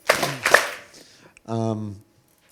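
A group claps twice in quick succession, two sharp close bursts about half a second apart, followed by a short spoken voice.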